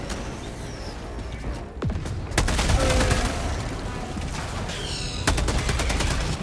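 A sentry turret in the video game Helldivers 2 fires in dense rapid bursts, loud and close, with sharp impacts and mechanical clatter after a brief lull.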